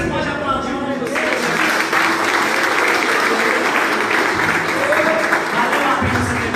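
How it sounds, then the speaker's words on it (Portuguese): Steady applause from a crowd fills the whole stretch, with voices mixed in beneath the clapping. "Você pode aplaudir o nome do Senhor."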